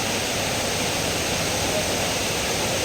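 Dense, steady hiss of heavy rain pours continuously, a broad rushing wash with no breaks or voices.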